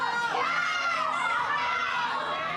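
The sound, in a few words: crowd of residents shouting at a murder suspect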